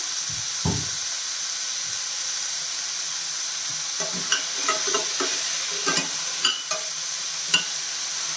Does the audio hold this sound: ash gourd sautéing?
yes